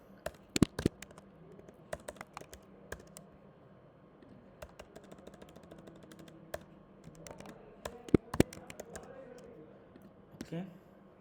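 Computer keyboard typing while writing basic Java code: scattered clicking keystrokes in short irregular bursts, fairly faint, with a voice talking quietly underneath.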